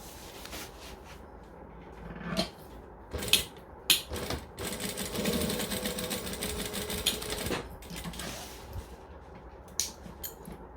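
A sewing machine stitches card slots for a wallet in one sustained run of fast, even mechanical clatter, framed by a few sharp clicks and handling taps before and after.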